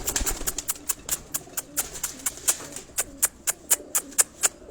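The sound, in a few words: breeder pigeons cooing, male approaching female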